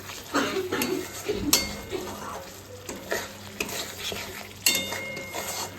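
Spice masala for a paneer curry fries in oil while a spoon stirs and scrapes the pan, giving steady sizzling broken by several sharp metallic clinks at uneven intervals.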